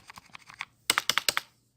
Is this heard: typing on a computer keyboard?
yes